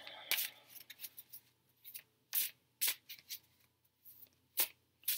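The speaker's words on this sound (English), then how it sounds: "I'm going to shuffle a little bit more." Tarot cards from a Mystic Dreamer Tarot deck are shuffled by hand in quick, crisp riffling bursts separated by short pauses, close and fairly quiet.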